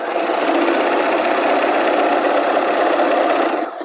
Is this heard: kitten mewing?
no